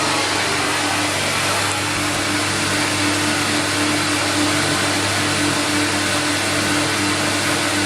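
A Record Power CamVac CGV286 workshop dust extractor runs on one motor alongside a vacuum pump, making a loud, steady whooshing roar with a constant low hum, unbroken and close.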